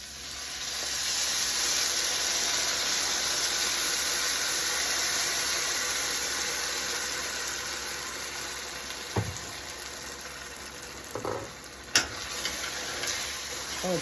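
Stir-fry sauce for chicken, vegetable and cashew hits a hot pan with a steady loud hiss and sizzle that fades slightly, followed by a few clanks of a utensil.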